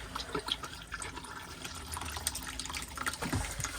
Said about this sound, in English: press the blue button. You get a flow of water into the bowl